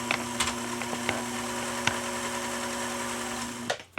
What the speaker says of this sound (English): and ready to sew.